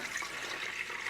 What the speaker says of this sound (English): that's another pint of water in there